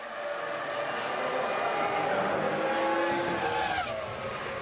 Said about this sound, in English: Schumacher must feel like he's suffering from déjà vu as another McLaren disappears into the distance.